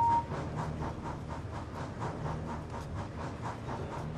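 Model trains roll along the track with a fast, even clickety-clack and a soft hiss, a steady run of rhythmic beats lasting about four seconds, fairly close with no voices.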